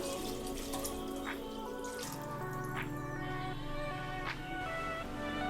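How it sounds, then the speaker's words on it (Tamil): Water poured from a cup into a cooking pot of rice for chicken biryani, a steady close splashing trickle with a few brief drips and no talking. "மூணு கப்பு வந்து தண்ணி அளந்து வச்சுருக்கேன் ஸோ சேர்த்துக்கலாம்"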